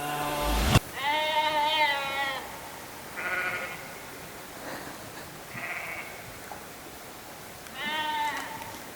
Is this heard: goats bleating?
yes